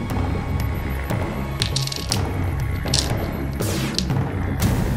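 Impacts and explosions from enemy weapons fire striking a ship in the FTL space combat game, dull booms and rattling crashes over a dense, steady game soundtrack.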